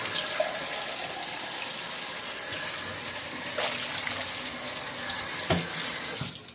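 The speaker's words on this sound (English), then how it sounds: "we're going to add a little bit more water to this pasta" Steady rush of running water from a tap pouring into a pot of conchiglie pasta, continuous and fairly loud, with a few soft clinks.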